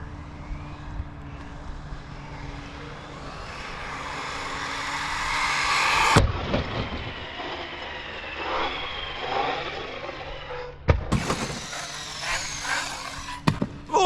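A Team Corally Syncro 4 RC car runs at full throttle, giving a sustained high-pitched motor whine that builds, drops away and surges again with a few sharp bumps.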